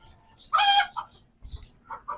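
Local desi hens in a coop give a short, loud squawk followed by softer scattered clucks and faint calls.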